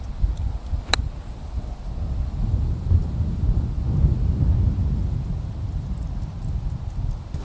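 Wind buffets across a golf course, a continuous low rumbling roar close on the microphone with one brief sharp tick near the start.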